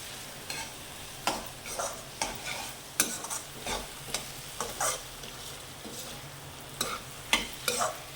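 Aloo poha with peanuts stirred in a pan, a soft sizzle under repeated scraping and clacking spoon strokes in an irregular rhythm, close and fairly quiet, with no talking.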